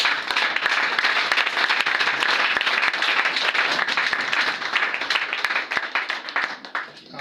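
At a prayer service, a congregation breaks into loud, sustained applause acclaiming Jesus. The dense clapping fills the room and only starts to thin out in the final second.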